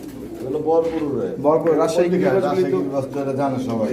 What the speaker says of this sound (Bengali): বন্ধুরা দেখতে পাচ্ছেন রাজশাহী গিরিবাস কবুতর